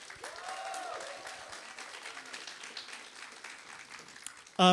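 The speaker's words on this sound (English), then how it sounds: "Can we give her a round of applause?" An audience applauds a chef at an evening event, soft continuous clapping with a voice talking over it, ending with a sudden loud burst.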